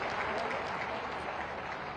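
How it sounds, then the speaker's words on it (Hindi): An audience at a formal ceremony gives a short burst of continuous applause, full and even throughout, with no voices standing out. "आप सबकी तालियां अगर इस अवसर पर हो जाएंगी तो इसकी शोभा बहुगुणित होगी।"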